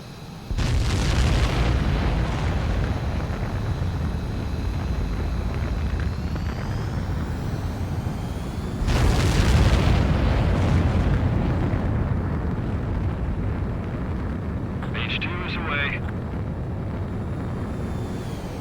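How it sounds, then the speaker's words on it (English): A fighter jet roars through takeoff and launch in the Ace Combat 7 game, a loud continuous engine blast that surges again midway, then settles into a sustained rumble. "begin takeoff sequence. You're cleared for launch."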